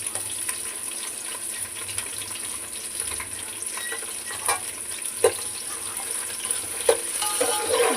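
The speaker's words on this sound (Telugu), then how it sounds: "మిర్చి ఆనియను కొంచెం మగ్గనిద్దాం" Green chillies and onion frying in a pan for chicken curry, a steady close sizzle throughout with a few sharp ticks and pops from stirring, no talking.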